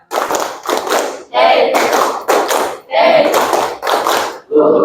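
A classroom of students in a clapping rhythm game claps in short group bursts that alternate with brief voiced calls from the class, a loud, close, call-and-clap pattern.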